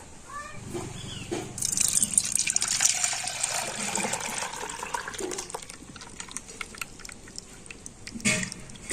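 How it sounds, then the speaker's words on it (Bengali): Milk poured into a bowl set with sour yogurt for sweet yogurt (mishti doi), a close liquid stream that rises and gurgles for several seconds then tapers off, with faint kitchen clatter. "দুধটা সেই পাত্রের মধ্যে ঢেলে দেবো"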